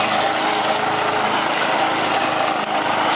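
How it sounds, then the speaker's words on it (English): A lawn mower engine running steadily and loudly nearby, a continuous buzzing drone with no pauses and no speech. "She's mowing the freaking lawn."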